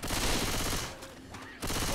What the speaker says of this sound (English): Watch where you shoot!